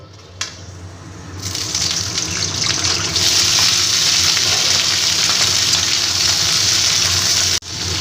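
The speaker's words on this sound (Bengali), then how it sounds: "এবার কেটে রাখা ফুলকপিগুলো আমি লাল করে ভেজে নেব" Cauliflower pieces frying in hot oil in a pan for ghugni, a steady loud sizzle that swells after a quiet start and runs continuously, with a brief clatter near the end and no talk.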